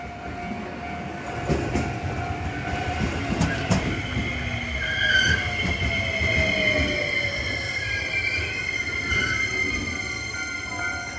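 A train passes close by in Japan, wheels squealing with high metallic tones over a steady low roar and rattling clatter.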